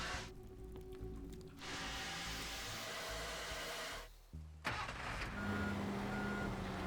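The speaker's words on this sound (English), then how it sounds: "That's more of a plow truck." A plow truck drives in the game Teardown, its engine droning steadily with a break of near silence midway, then a higher rumble and a thin tonal whine returning.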